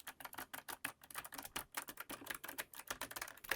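Keys on a mechanical tactile Logitech gaming keyboard click in a rapid, fairly even string of crisp, close-up taps, faint overall and heard alone.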